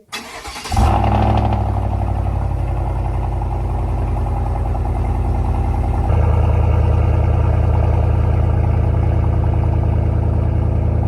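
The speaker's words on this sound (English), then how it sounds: "The Muffler Delete is by far the most affordable option, and it does really sound great." Chevy Silverado with the 5.3 V8 and a muffler delete cranks and fires up, then settles into a loud, deep, rumbling idle with a raspy burble that steps up slightly in intensity partway through.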